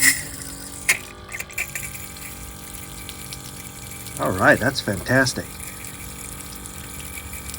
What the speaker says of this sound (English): All right, looks like the pump is primed.